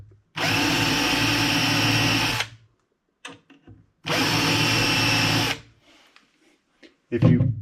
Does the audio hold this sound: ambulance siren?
no